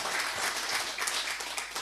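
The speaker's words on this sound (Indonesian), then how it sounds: "Saya pikir tepuk tangan dulu untuk saya." Audience applause for a speaker at an FKBNI national working meeting, a steady dense wash of clapping that stays loud and even for the whole stretch, with no voices on top.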